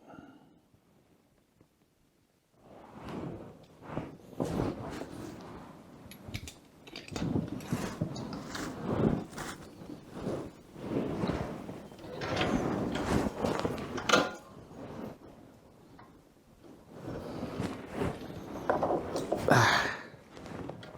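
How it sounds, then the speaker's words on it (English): A wrench tightening a screw nut on a CF Moto 700 CL-X motorcycle, close, irregular metallic ratcheting clicks and scraping handling noises, starting after a quiet opening and continuing with intermittent clunks. "Use the wrench to get hold of that. Get this screw nut into the right place."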